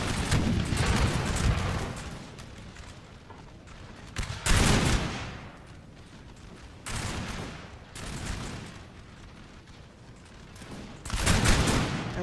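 Musket volleys from an infantry unit in a Napoleon: Total War battle, four loud crackling bursts of massed fire separated by quieter rumbling stretches of distant battle noise.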